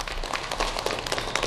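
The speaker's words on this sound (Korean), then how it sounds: "박수 부탁드리겠습니다." Audience at a seminar applauds in a dense, steady burst of many hands clapping together, filling the room briefly without voices over it.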